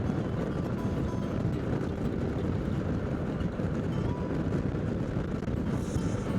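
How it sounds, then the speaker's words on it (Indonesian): Strong wind buffets a vehicle on a coastal road along Java's north coast, a steady loud roar of wind noise that stays constant throughout with no voices. "Kenceng banget anginnya coy."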